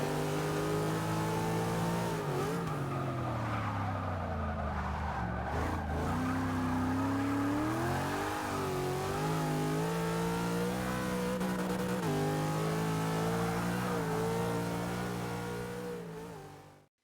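Racing car engines in Forza drone steadily at high revs, rising and falling with gear changes and throttle through corners, with faint tire squeal, loud and continuous before fading out at the end.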